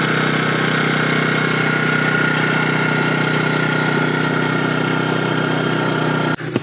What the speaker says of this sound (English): I started it, and so it's literally running off the 3-gallon tank